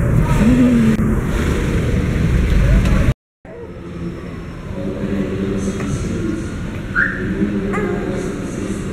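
A jeepney ride: engine drone and traffic noise fill the cabin, cut by a brief dropout before the rumble returns more softly, while people talk over it.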